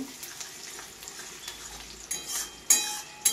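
Onions frying in a pan for mutton head curry, a soft low sizzle with a few sharp scraping stirs toward the end, fairly close and without talk.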